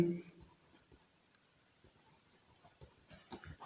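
A pen scratches on paper while a math exercise is worked out, producing faint, quiet strokes in short irregular bursts with brief pauses.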